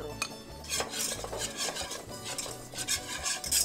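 White flour being stirred into a pot for a meat lasagna sauce, a close, continuous scraping and swishing of a spoon against the pot with rhythmic strokes and no talking.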